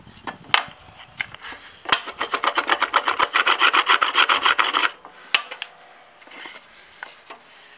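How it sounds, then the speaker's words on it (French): A hand plane shaves a wooden wedge, one of ten made for fixing a gutter, in a run of about fifteen quick rhythmic rasping strokes, close and fairly loud, with a few isolated knocks and scrapes before and after. "on a donné un petit coup de rabot à la sortie"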